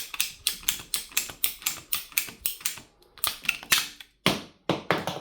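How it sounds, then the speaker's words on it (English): A handheld ratcheting PVC pipe cutting tool clicks through plastic pipe in a workshop, a loud, close series of quick, evenly paced snaps with a couple of short pauses. "I just discovered this PVC pipe cutting tool and I'm going mad with power with it"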